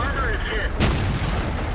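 A high-explosive tank shell fired in World of Tanks, a single sharp boom about midway that rolls off quickly, with a voice over the background before it.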